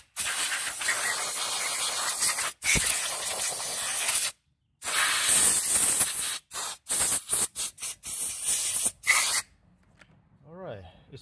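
Compressed air blasting in bursts to dry brake cleaner off a Cadillac XT5 engine part during a thermostat replacement, loud broadband hissing in repeated short and long spurts separated by silences.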